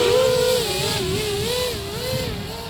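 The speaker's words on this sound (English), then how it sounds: "They're pretty loud. I thought they were gonna be less loud." FPV drone fitted with donut-shaped propellers flying close by, a loud continuous high-pitched motor whine that wavers up and down in pitch as the throttle shifts, steady throughout with no talking.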